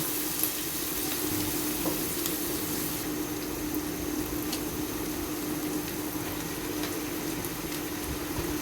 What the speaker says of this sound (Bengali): পেঁয়াজটা একটু হালকা বেজে নেব